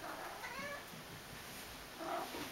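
A black cat gives two soft, faint meows, one early and one near the end, in a quiet room with a low background hum.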